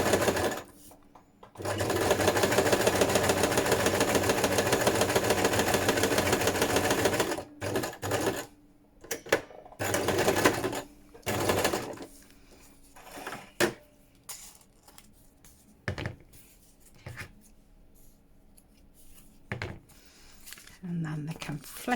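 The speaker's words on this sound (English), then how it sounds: "I'm just going to put a stitch down the top," A sewing machine stitches across the top of a paper journal card in one loud, steady run of a few seconds, then a few short stop-start bursts follow amid quieter handling noises.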